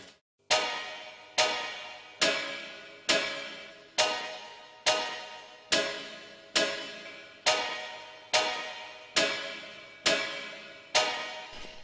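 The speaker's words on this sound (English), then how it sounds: "plate reverb on the Skank guitar" A skank guitar loop runs through a DIY steel plate reverb tuned short: evenly spaced sharp chord stabs, about one per second, each decaying quickly into a brief metallic wash, fairly quiet and with no talking.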